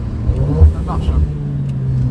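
A Stage 2 tuned car rated at 440 hp with a Milltek exhaust accelerates, its engine drone rising and swelling steadily, fairly close, with people talking over it.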